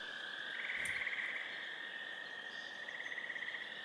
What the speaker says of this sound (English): Insects are buzzing.